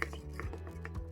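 Cake batter for a microwave cake being whisked in a bowl, a steady run of close, soft scraping and tapping strokes at moderate level with no voice.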